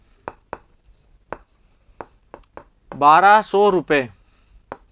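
Pen or chalk writing out a Class 7 maths answer, with sharp isolated tapping strokes spaced through the quiet, then a brief burst of a teacher speaking before one last stroke.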